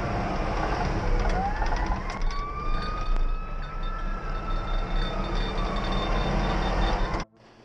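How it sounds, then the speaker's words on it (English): Emergency vehicle sirens wail from a distance, rising and falling over a steady rumble of traffic and wind, then stop abruptly at the end. "Sirens, yeah."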